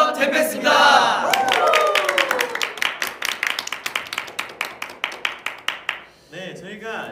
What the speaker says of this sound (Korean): 저희가 시작부터 아주 힘차게 박수를 쳤는데